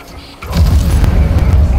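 A video game explosion in Halo Infinite booms in at close range, then a low rumbling roar hangs on for over a second without fading.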